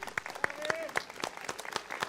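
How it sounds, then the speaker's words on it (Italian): Applause for young performers after a choir and poetry event, heard as faint, evenly spaced claps with a gentle rhythm under a quiet room, with voices murmuring in the background. "un applauso grandissimo a questi ragazzi."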